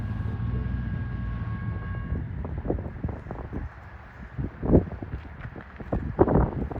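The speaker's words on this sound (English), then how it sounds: "A southbound unit train carrying track maintenance equipment." A unit train carrying track maintenance equipment rumbles past at a moderate distance, with low steady rolling noise, rhythmic clacks of wheels over rail joints, and wind buffeting the microphone.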